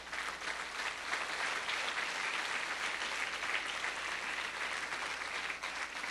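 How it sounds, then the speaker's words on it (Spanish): A church congregation applauds during a sermon, a steady, dense wash of many hands clapping together, sustained and even without pause. "Dale un aplauso a la gloria de Dios."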